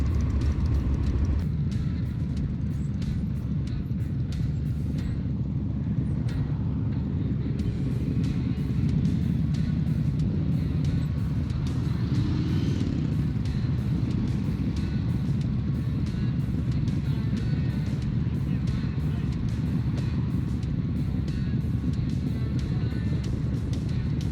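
A motorcycle with a worn-out clutch rides along, its engine giving a loud, continuous low rumble mixed with wind roar and no clear speech.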